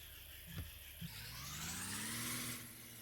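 A car engine starts up in a golf video game: two quick cranks, then a faint, rising whir as it catches and revs, all fairly quiet.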